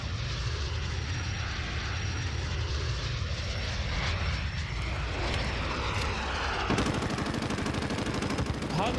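A VTOL aircraft in Call of Duty: Modern Warfare roars overhead in a loud, continuous jet drone, with a rapid burst of gunfire near the end.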